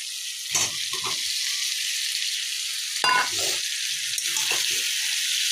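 Cauliflower florets dropped into hot spiced oil for a Bengali non-vegetarian cauliflower roast, producing a continuous loud sizzle broken by several bursts of stirring and spattering.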